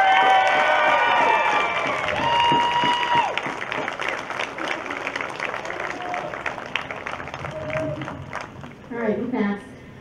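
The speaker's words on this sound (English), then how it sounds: "please give them a loud and rowdy round of applause" A high school graduation crowd at the 2020 Milton Union commencement, loud cheering, shouts and whistles over applause, fading into scattered clapping and crowd noise as a voice speaks near the end.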